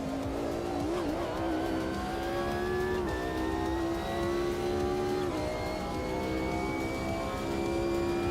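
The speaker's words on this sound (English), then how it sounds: "I definitely prefer the audio of the PMR car." A race car engine in the sim racing game Project Motor Racing roars steadily throughout, its pitch climbing and settling with gear changes, loud and close with a faint hint of tire noise.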